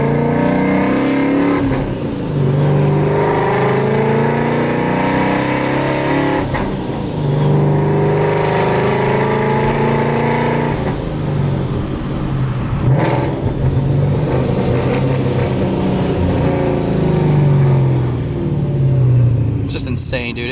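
A boosted S197 Ford Mustang with a 5.0 engine accelerating hard, a loud, close rising engine roar through several gear pulls with dips between shifts and a whine on top, while people talk over it.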